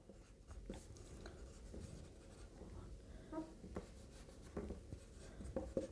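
Chalk or marker writing on a board in a Class 10 maths lesson, heard as faint, intermittent scratchy taps and strokes spread across the span against a steady low room hum, with no voices.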